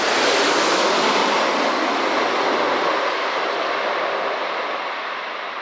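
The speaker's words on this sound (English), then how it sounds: "This Boeing 747 landed very hard in Amsterdam." A Boeing 747 landing hard at Amsterdam roars as a loud, steady broadband jet rush that slowly fades over several seconds, with no voices.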